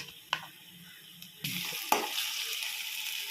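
Ginger garlic paste hits hot oil in a pan for an egg curry, starting a steady broadband sizzle that swells from about the midpoint, with a few sharp clinks of a utensil on the pan and no talking.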